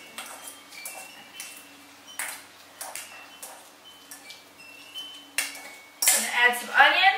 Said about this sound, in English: you're going to take a fork and you're going to just mash up your avocados.